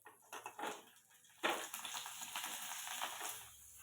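Bobby snacks frying in hot oil, a crackling, bubbling sizzle with irregular bursts that swell after a short quiet start, fairly faint and close.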